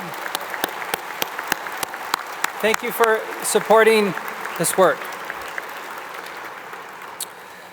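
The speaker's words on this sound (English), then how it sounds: "we'd love to give you all a round of applause for your great work" Scattered hand claps from an audience honoring committee members at a college convocation, sparse and uneven, with someone speaking over them in the middle before the claps thin out.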